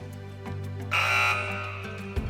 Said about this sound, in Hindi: इस बार अली मेहदी हिमानी ने सबसे पहले बज़ किया है